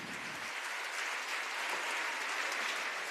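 An audience at the inauguration of Takshashila Buddha Vihar in Ausa applauds MLA Abhimanyu Pawar, a dense, steady wash of clapping from many hands that starts abruptly and holds evenly.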